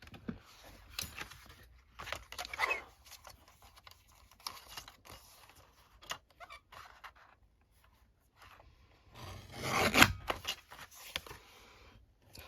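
Paper being cut for an altered board book: quiet scattered snips and rustling, with a louder crinkling burst near the end.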